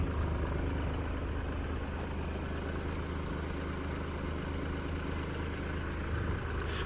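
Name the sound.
BMW X2 1.5 litre engine idling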